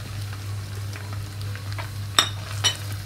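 Garlic and ginger frying in oil in a pan for Bong Nihari, a steady low sizzle with two brief clinks of a utensil against the pan near the end, no voices.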